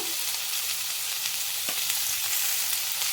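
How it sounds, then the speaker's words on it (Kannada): Bitter gourd pieces frying in oil in a pan, a dense, even hiss of sizzling that stays steady and close throughout, with a faint scrape or two and no voices. "ಇದನ್ನು ಸ್ವಲ್ಪ ನಮಗೆ ಆಯಿಲಲ್ಲಿ ಚೆನ್ನಾಗಿ ಸ್ವಲ್ಪ ಫ್ರೈ ಆಗಬೇಕಾಗುತ್ತೆ"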